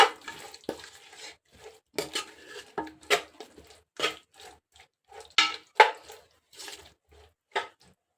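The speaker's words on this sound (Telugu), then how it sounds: "పచ్చిమిర్చి కొత్తిమీర పుదీనా కొంచెం నెయ్యి ఇవన్నీ కలుపుకొని పక్కన పెట్టుకుందాం" Green chilli, coriander, mint and a little ghee are mixed in a bowl for chicken dum biryani: a string of close, separate clinks and scrapes of a spoon against the bowl, with soft squishy stirring between them.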